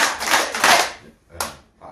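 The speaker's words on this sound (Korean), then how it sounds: "박수 3번 시작!" Audience in a lecture hall clapping in short bursts, a sustained wave of applause for about a second, then a brief second burst and the start of a third, fairly close and loud.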